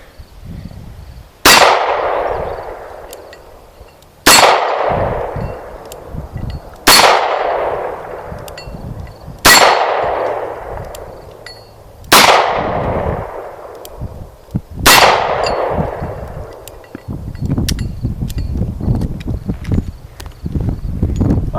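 Six sharp, loud gunshots from an EAA Windicator .357 Magnum revolver, spaced about three seconds apart, each cracking hard and ringing out in a long decaying echo, with some shuffling and handling noise at the end.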